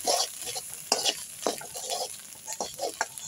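Ghatkol leaf bhorta with tamarind being stirred in a pan: repeated scraping strokes of a spatula at an irregular rhythm over a soft sizzle, close and moderately loud, with no voices.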